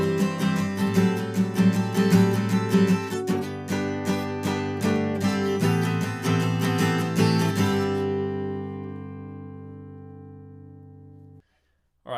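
Guitar plays the second half of the instrumental from a song, strummed chords in a steady rhythm that stop and ring out, fading over the last few seconds.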